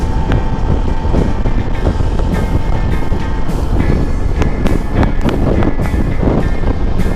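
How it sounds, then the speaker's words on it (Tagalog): Strong wind buffeting the microphone in a constant rough roar, with gusty bursts and rumble, heard outdoors with no voices. "Lakas ng hangin."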